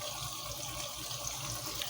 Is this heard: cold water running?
yes